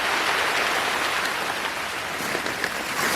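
Steady rain falls outdoors on a mountainside in mushroom-picking country, a dense, even patter of drops that stays constant and fairly close throughout, with no voices.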